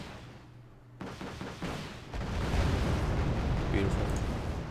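Artillery fire and explosions in the Wargame: Red Dragon strategy game, a dense, continuous rumble of blasts that swells louder after the first two seconds and rolls on without a break.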